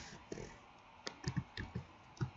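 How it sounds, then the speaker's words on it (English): Quiet clicks of typing on a computer keyboard, a brief irregular run of nearby keystrokes with no voices. "I'm just typing in"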